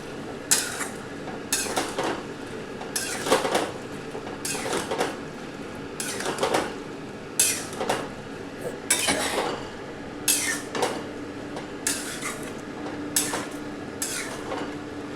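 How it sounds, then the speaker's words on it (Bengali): Chickpeas and potatoes go into a pan of cooked-down spices for a chickpea curry, and metal cookware clinks and scrapes in repeated sharp bursts while the pan is stirred, with no talking. "এরপরে আমি ছোলা আলুটা দিয়ে দিচ্ছি।"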